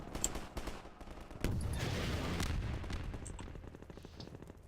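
Gunfire in the video game Half-Life 2, with sharp shots early on and then a dense, sustained burst of rapid firing and noisy combat.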